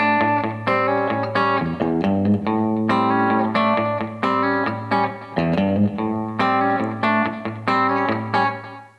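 Distorted electric guitar plays a slow blues vamp, steady sustained bass note under repeated chord stabs and double stops, loud and close, with effects coloring the tone.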